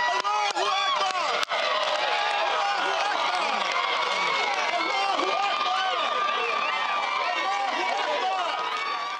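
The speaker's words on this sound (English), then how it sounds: "We're hearing some kind of cheer that has gone up." A large crowd cheers and shouts in sustained, dense jubilation outside a Georgia prison on the night of Troy Davis's scheduled execution, with whoops and voices overlapping throughout.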